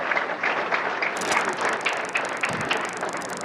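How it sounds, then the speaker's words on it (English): Crowd at a televised BPA King of TV Bowling match in Cincinnati, Ohio clapping steadily, a dense patter of hands with a few dull knocks and clatters in the background and no talk. "There's just part of our crowd"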